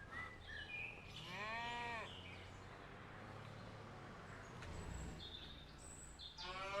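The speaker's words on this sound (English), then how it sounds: "Got a red Holstein cow, and we've got 2 Kerry cows as well, and then we've got a shorthorn milker." Cattle in Farming Simulator 25, including a red Holstein, Kerry cows and a shorthorn milker, give harmonic moos and lowing calls at moderate distance over a steady farmyard background, with no talking.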